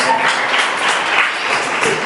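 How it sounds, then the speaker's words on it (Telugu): Church congregation clapping loudly during Sunday worship, a dense, steady wash of many hands throughout, with a faint voice mixed in. "గట్టిగా చప్పట్లు కొడదామా?"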